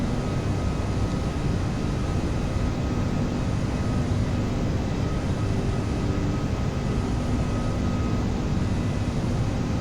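Simulated Airbus A330 jet engines at climb thrust, from an Aerosoft flight simulator sound pack, give a steady, loud, broadband roar with a constant low rumble and a faint high whine, holding unchanged throughout.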